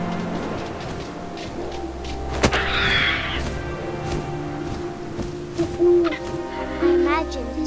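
An owl hoots in the game What Remains of Edith Finch, soft calls rising over wind and ambient game sounds, with a few thumps and rustles scattered through the scene.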